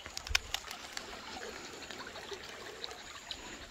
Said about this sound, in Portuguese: bora pegar uma aguinha aqui, ó. Direto da fonte.